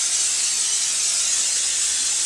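Butter sizzles on a hot griddle with a steady, bright hiss that stays close and even throughout, with no voices.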